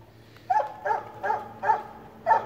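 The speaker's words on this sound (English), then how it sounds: "I got two rescue walker dogs here" Two rescue Walker hounds barking outdoors near farm pigs: a run of five loud, close barks at a steady pace, with no talking.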